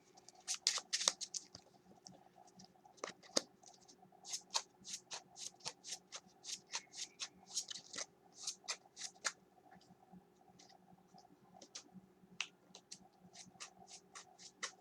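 Playing cards being shuffled up close, a deck of trading-card-game cards, a series of quick riffles and taps in uneven bursts, soft and crisp in a quiet room.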